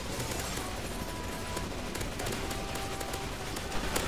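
Dense, continuous gunfire in Counter-Strike: Global Offensive during a zombie escape boss fight, loud and relentless, with overlapping rapid shots and crackling bursts throughout.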